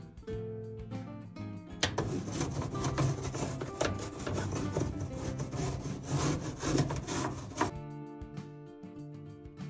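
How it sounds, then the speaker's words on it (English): Steady, close scrubbing on a laundry room surface, a dense rough rubbing that runs for several seconds before stopping, with quieter room sound on either side. "and just scrub this whole area"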